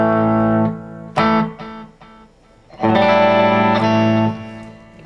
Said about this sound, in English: Strat, back pickup. I have it on single coil, so it's not too thick. Put a little delay on it.